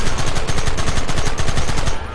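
Rapid automatic gunfire from a Red Dead Redemption shootout, loud and close, with dense repeated shots rattling steadily for about two seconds before briefly easing at the end.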